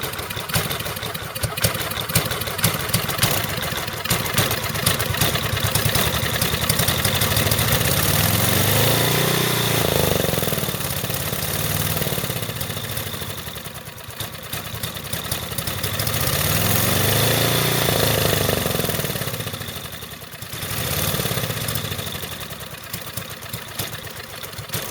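A Montgomery Ward generator engine runs steadily nearby, rough and loud, with the pitch sagging and surging in slow waves as the flooding engine struggles.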